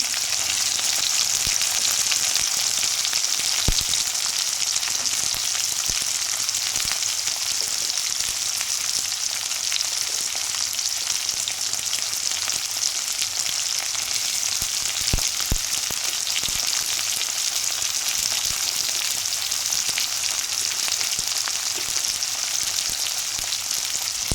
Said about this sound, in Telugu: ఆనియన్స్ అనేది వేసేసుకొని మంచిగా కలిపేసుకుందామండి